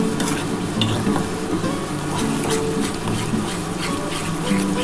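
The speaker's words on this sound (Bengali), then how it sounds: "এটা খুব ভালোভাবে কিন্তু নাড়াচাড়া করতে হবে" Banana stem (thor) paste stirred in a pan, giving a continuous close scraping and soft sizzling with rhythmic spatula strokes throughout and no one speaking.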